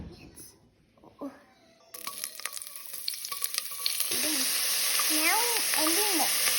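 Onions dropped into hot frying oil for a vegan cream of mushroom soup start a loud, steady sizzle partway through that continues to the end, with a voice speaking briefly over it.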